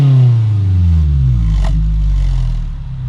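A 2016 Scion tC 10.0 RS with a TRD exhaust revs loudly and close by, a deep throaty engine note that swells and holds, with a brief sharp crackle midway.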